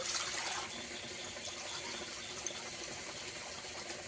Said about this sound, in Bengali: সেই বাটিরই ডবল জল দিয়ে দেব